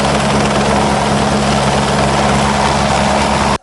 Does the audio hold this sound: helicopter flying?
yes